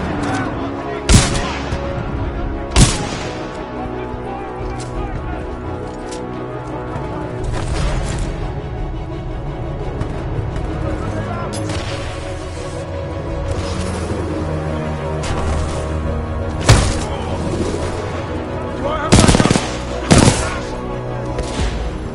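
Supporting gunfire from an allied titan in the Titanfall 2 singleplayer campaign: sharp loud shots and booms fire in irregular bursts over a dense rumbling battle bed.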